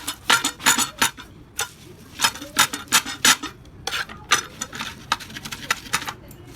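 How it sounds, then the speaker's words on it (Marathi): A metal tambya pounding and grinding fried green chillies, garlic and salt into village-style thecha, giving irregular sharp knocks and scraping taps close by, repeated in quick uneven bursts. "तांब्याने रगडायला लागले."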